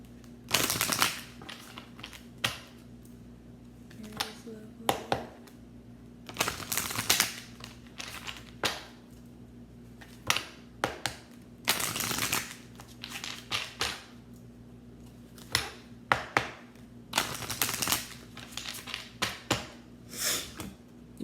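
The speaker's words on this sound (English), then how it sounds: "I'm going to shuffle it this way tonight." Repeated bursts of rapid riffling and soft slapping as cards are shuffled, several rounds with quiet pauses between, close by.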